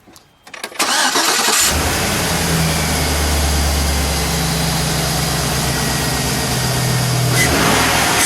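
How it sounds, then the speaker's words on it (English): A 2004 Chevrolet SSR engine cranks briefly, catches, and settles into a steady, loud idle with a low rumble that holds for several seconds. "Let's fire it up, shall we? We'll listen to it idle."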